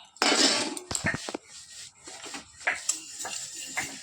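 Spices dry roasting in a pan for mango pickle, with sweet fennel among them: scraping and clinking of a utensil against the pan in short irregular bursts, close and fairly loud, with brief pauses between strokes.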